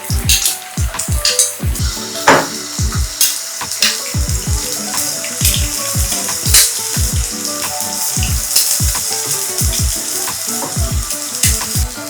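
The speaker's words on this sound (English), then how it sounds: "So after you cook your egg" Eggs fry sunny side up in a hot pan for a tosilog breakfast, loud close sizzling and spattering with a dense run of sharp pops and crackles throughout, no voices.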